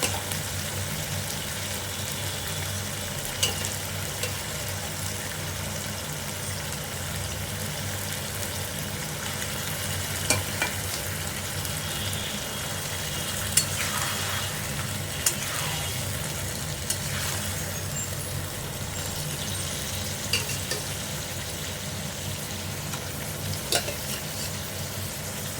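Marinated mutton pieces sizzle steadily in a hot pan for biryani as they are stirred, giving a continuous close frying hiss with occasional scrapes and no talking.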